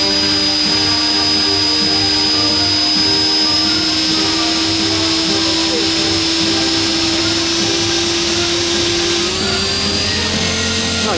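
A homemade radio-control helicopter lifts off with a steady, loud motor and rotor whine that holds for several seconds and then climbs in pitch near the end, with occasional voices nearby.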